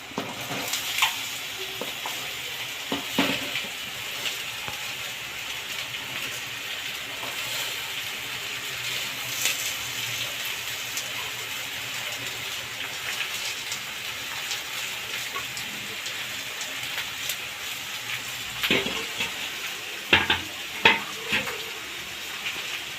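Ridge gourd frying in a pan with dried red chillies, a steady close sizzle broken by scattered clinks and scrapes of stirring, with a few louder clatters near the end.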